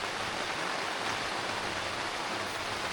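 Steady rain falls at night on a mountain campsite at Queena Mountain near Badulla, a continuous dense hiss of drops on tents and surroundings, close and even throughout with no voices.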